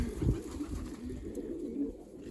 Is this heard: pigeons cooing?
yes